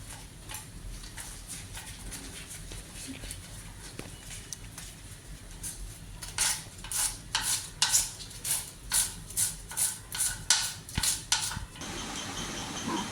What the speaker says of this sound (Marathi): आता आपण त्याला बारीक अशी कट करून घेऊया